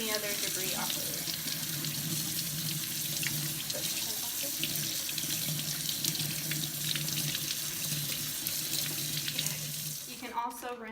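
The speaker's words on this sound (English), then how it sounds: "take your deer meat and wash it off with cold water to get the hair and any other debris off of it" Cold water runs steadily from a kitchen tap over deer meat being rinsed clean of hair and debris, a continuous full splashing stream into the sink that fades out near the end.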